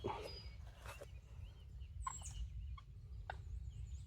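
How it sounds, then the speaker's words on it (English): A wild turkey gobbles far off several times during turkey season, each call short and faint. The calls sit over a steady low rumble of wind. "I swear that sounded like a gobble, but it's way off"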